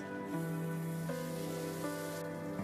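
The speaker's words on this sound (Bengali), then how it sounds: "পেঁয়াজটাকে ভালো মতো ভেজে নিব এবারে দিয়ে দিব দুটো চেরা কাঁচামরিচ" Chopped onions with slit green chilies sizzle steadily in hot frying oil while cooking a bitter gourd and masoor lentil dal, a continuous close hiss with no talking.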